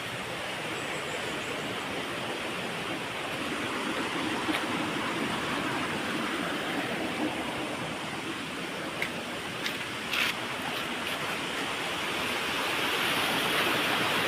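Flowing water rushing steadily and loudly nearby, a continuous broad hiss like a stream or small waterfall, with no talk over it.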